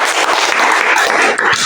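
Brief burst of applause from a classroom group, dense close clapping filling the short moment.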